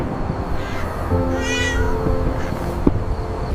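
Cartoon cats give a single clear, drawn-out meow in a festive Diwali scene, close and fairly loud over a steady background bed.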